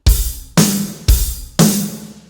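Four sharp drum hits alternating evenly between snare and hi-hat, each with a bright crash-like decay, played alone at a steady moderate pace.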